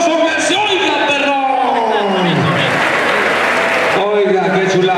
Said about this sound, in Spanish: ¡Me da el aplauso!